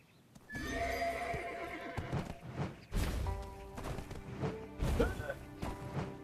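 A horse in the video game Tale of the Changui neighs loudly, then hooves clop and thud in bursts, followed by further whinnies, all close and prominent.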